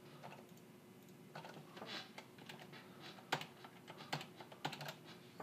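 Steady typing on a computer keyboard while entering code, a quiet run of soft clicks with a few sharper, louder keystrokes near the end.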